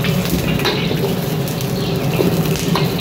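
Nasi goreng frying in a hot wok in a village kitchen, a steady loud sizzle with occasional stirring scrapes and crackles that runs throughout, with no one speaking.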